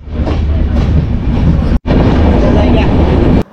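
The Drutojan Express intercity train runs along the tracks near Dhaka, a loud, close, roaring rumble with rhythmic rail clatter that cuts out for an instant midway, then resumes until a brief drop at the end.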